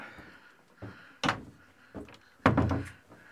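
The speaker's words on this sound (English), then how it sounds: "This is a double-use door. This door will come over." A double-use cabin door on a Nauticat 33 ketch-rig sailboat is swung over inside the boat. There are several close wooden thunks and knocks, two of them louder, with quiet creaks between.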